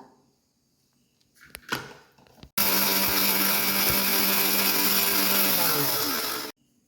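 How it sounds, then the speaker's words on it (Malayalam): A kitchen mixer grinder coarsely grinds roasted wheat, starting abruptly with a loud, steady whirring roar that runs for about four seconds and then cuts off; a few brief knocks come before it, with no speech. "നമുക്കിപ്പോൾ ഇത് ഒരു സെവൻറ്റി പേഴ്സൻറ്റ് പൊടിച്ചെടുത്താൽ മതി കേട്ടോ ഫൈൻ പൗഡർ ആക്കണ്ട"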